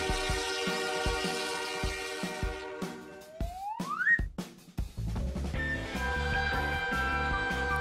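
A freight train horn in a children's cartoon sounds in a short rising blast partway through, set against a steady mechanical rumble and clattering rhythm that fill the rest of the stretch, with no voices.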